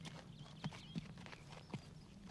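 Hooves clip-clop in a slow, uneven walk, three or four distinct knocks over a soft background murmur, moderately close and without speech.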